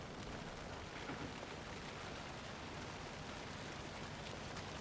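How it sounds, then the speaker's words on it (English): Rain falling in the video game Alan Wake 2, a soft, even hiss of steady rainfall, quiet and continuous with no break. "It's raining."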